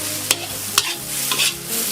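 Egg fried rice sizzles steadily in a hot pan while a utensil scrapes and stirs, giving a few louder clacks against the metal.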